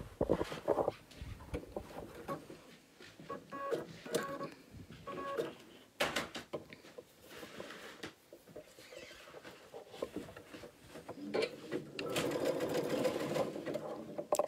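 A sewing machine stitches fabric for a bread proofing bowl, running in close mechanical bursts that stop and restart as it backstitches forward and back, with a steadier whirring run near the end.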